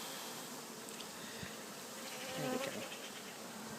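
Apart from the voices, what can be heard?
bees buzzing around a top bar hive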